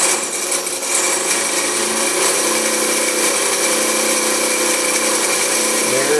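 A Singer 95-1 industrial sewing machine runs at speed after a belt replacement, giving a loud, continuous, steady mechanical whir and rattle with no pauses.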